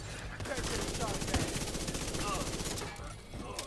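An enemy turret fires rapid automatic bursts in The Division 2 video game, a loud continuous clatter of gunfire with a voice talking over parts of it.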